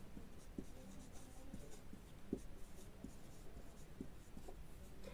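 A pen writes equations on paper: a soft, continuous scratching with small ticks as strokes start and stop, faint and close, with no one talking.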